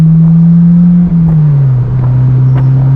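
A slammed Honda S2000 engine hums steadily from inside the car as it drives, its pitch dropping briefly through a gear shift before settling into a lower, even drone.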